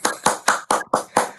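Hands clapping: six sharp, evenly spaced claps in a steady rhythm, close and fairly loud with no other sound.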